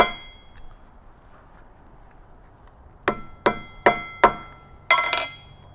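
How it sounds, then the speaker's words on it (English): Five sharp metallic hammer blows ring out close by as a metal T-nut is driven through leather over a hole on an anvil, spaced unevenly after a quiet start, with no talking. "I place the T-nut in the leather over this hole on my anvil so I can drive it through and"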